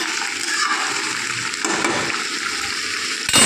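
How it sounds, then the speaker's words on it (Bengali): Sabji frying over a high gas flame, stirred in the pan, giving a continuous hiss and sizzle with soft scraping, ending in a brief clatter. "দেখো এটাকে আমি ভালো করে নাড়াচাড়া করে নেবো আর ভালো করে কষিয়ে নেবো।"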